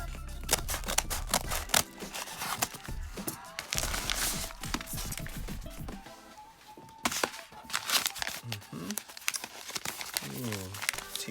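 Paper mailer being torn and cut open with scissors, with repeated crinkling, ripping and snipping bursts close by, mixed with intermittent talking.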